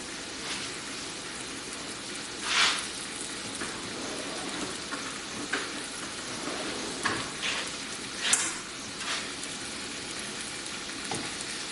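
Fresh salmon fillet pan-searing in a hot pan with saffron while onions warm at the back, a steady close sizzle broken by scattered louder pops and spits.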